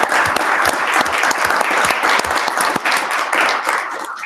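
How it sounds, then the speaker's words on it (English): Loud, sustained applause fills a council of commissioners meeting in Butte-Silver Bow, with many pairs of hands clapping steadily from start to finish and no talking over it. "So I would ask for a round of applause for those folks."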